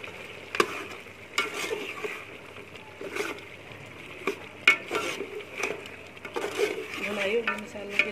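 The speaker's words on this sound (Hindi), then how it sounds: "मसालों की अच्छी तरह से भुनाई करेंगे" Spices for yakhni pulao roasting in a pot with red chilli and coriander powder: a steady close sizzle with intermittent scraping stirs and sharp metal clinks of a spoon against the pot.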